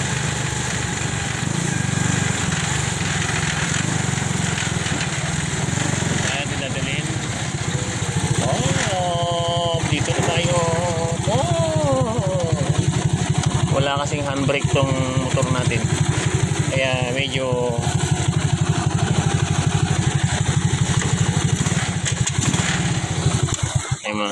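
A motorcycle engine idles and putters steadily close by, with a person talking over the running motor.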